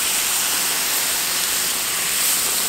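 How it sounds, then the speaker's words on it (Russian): Water pours into a pot of fried meat and vegetables for Uzbek kaurma-shurpa, giving a steady, loud hiss and sizzle of steam with no break and no talk. "И теперь добавляем воду."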